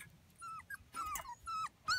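Young Australian Shepherd puppies whimper and yip in short, high, quavering bursts while playing outdoors, several cries in quick succession, close and moderately loud with no talk.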